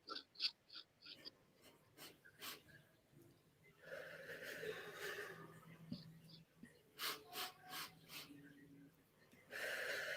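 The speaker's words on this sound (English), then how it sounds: "you take 4 sniffs of an inhale and then 1 long exhale" A person doing a breathing exercise: four short sniffing inhales through the nose followed by one long exhale, repeated, close and quiet, with soft breathy sounds and small noises between.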